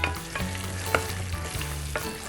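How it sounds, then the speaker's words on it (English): A spoon stirs food around a sizzling pan with sesame, scraping the bottom in a few distinct strokes over a steady close frying hiss. "I wouldn't mind just giving this a little stir just to keep everything off the bottom"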